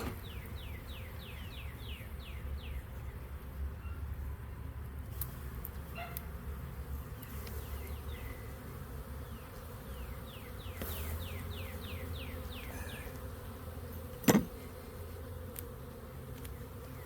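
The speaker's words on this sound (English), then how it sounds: "Quite a bit of bees on the upstairs." Honey bees buzzing in a split hive colony, a dense steady hum near the hive with individual bees whizzing past close by and one sharp knock partway through, no talk.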